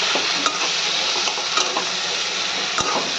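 Fried dal being stirred into potatoes in a hot pan, a steady bright sizzle with soft scraping strokes and a few light clinks of the spoon against the metal.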